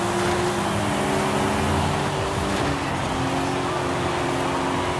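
Race car engines on an oval track in Forza Horizon 5, a loud steady drone of several engines held at high revs throughout.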